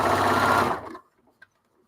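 A sewing machine stitches in a short, loud whirring run of under a second that stops abruptly, followed by near silence and a faint click.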